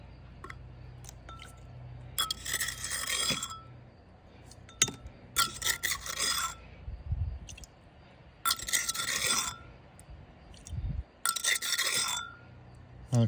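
White quartz pieces poured into a gold-recovery centrifuge, heard as several separate bursts of bright clinking and rattling with quiet gaps between them.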